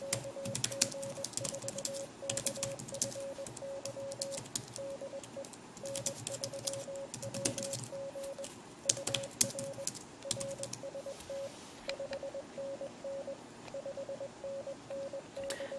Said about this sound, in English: So let me type something in here.